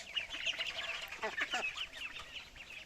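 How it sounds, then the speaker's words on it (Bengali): A pen of about forty-five Khaki Campbell ducks in a small enclosure gives off a busy chorus of overlapping honking and chattering calls, fairly close and continuous, with no talking. "এখানে মোট পঁয়তাল্লিশটা হাঁস আছে আর কি এগুলো হচ্ছে খাকি ক্যাম্বেল প্রজাতির হাঁস"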